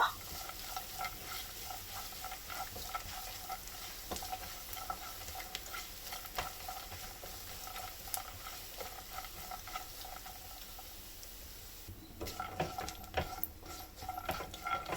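Leftover-rice snack roasting in a pan over a flame, a soft continuous sizzle broken by scraping stirs, growing busier and louder toward the end.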